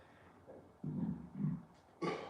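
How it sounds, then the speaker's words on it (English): A low, drawn-out rumbling burp during a curry takeaway mukbang, fairly quiet and close, in two swells followed by a brief noisy exhale. "Apologies, I need to burp."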